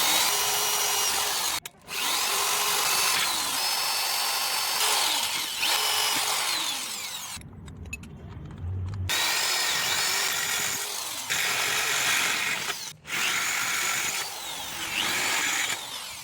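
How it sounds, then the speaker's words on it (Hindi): A power drill boring holes in iron pipe for a welded metal rack: a steady, loud, high-pitched whine broken by three brief pauses, one of them lasting about a second and a half. "और इसके बाद इसमें मैं होल करने वाला हूँ।"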